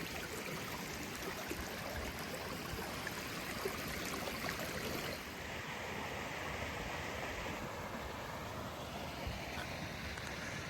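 River rapids flowing across and down a walking path: steady, loud broadband rushing water close to the microphone, continuous throughout with some wind noise and no speech.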